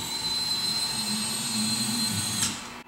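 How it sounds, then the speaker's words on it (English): DJI Inspire 1 drone switching from travel to landing mode, a steady mechanical whine with a thin high tone as the frame lifts, stopping abruptly near the end, close and alone. "unlock the Inspire 1 from travel mode to landing mode, which will lift up the frame and allow us to mount the gimbal underneath"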